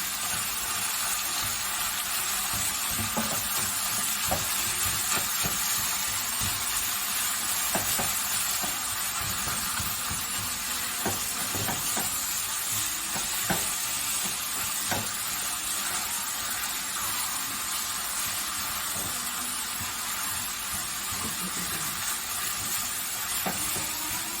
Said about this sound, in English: My meat is already beginning to cook up really nicely.